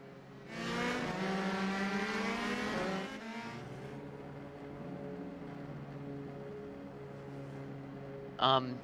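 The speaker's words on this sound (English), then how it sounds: "Currently everyone is just exiting the pits and getting ready to start their lap." Race cars in a racing video game exit the pits at the Italian Grand Prix, engines droning and whining at close range with shifting pitch, one sharp rev briefly louder near the end.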